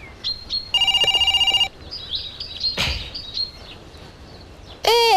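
A toy telephone in a children's kitchen scene rings with a short electronic trill, followed by scattered chirpy sounds, a thump and another rising electronic tone; no talking.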